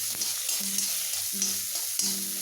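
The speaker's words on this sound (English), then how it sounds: "Now we can add our chopped onion, ginger, green chili and curry leaves. Saute this." Chopped onion, ginger, green chili and curry leaves sautéing in hot oil with browned urad dal, a steady sizzle broken by a few spatula stirs and scrapes, close and clear with no talking.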